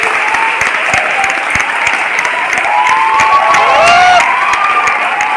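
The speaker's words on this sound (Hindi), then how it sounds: "सो एक जोरदार तालियां होनी चाहिए आप सारे लोगों के लिए।" Loud, sustained applause and cheering from a large crowd of students at an event in Mau, a dense continuous clatter of clapping with shouts rising over it, close and unbroken.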